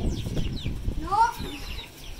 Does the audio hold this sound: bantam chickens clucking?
yes